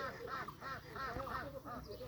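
White Pekin ducks on a duck farm quack repeatedly in a steady, overlapping chorus of nasal calls, fairly close and continuous, with faint farm background underneath.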